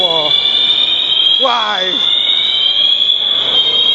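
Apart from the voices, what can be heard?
fire alarm going off at a shopping mall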